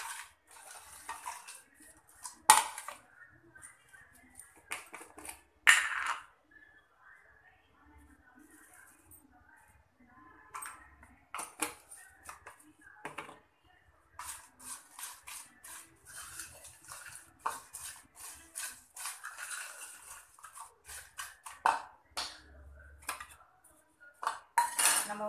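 Banana chips being tossed with pepper in a bowl, light scattered clinks and rattles of a spoon against the dish in short bursts, with brief quiet gaps between them.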